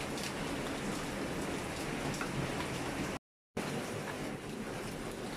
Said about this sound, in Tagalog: grabe pa rin yung ulan